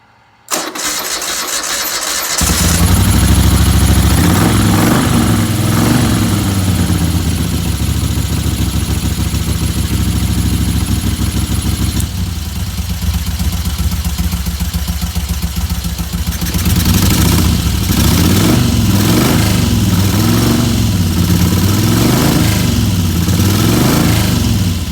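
A 1985 Moto Guzzi California II motorcycle engine cranks and starts, then runs loud and close with a steady, even idle that briefly rises and settles for over twenty seconds, alone without talk.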